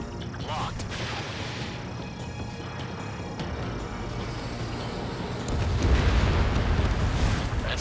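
Enemy bomber shot down in the Ace Combat 7 flight game, a steady dense roar of engines and blasts that swells louder near the end, with no voices.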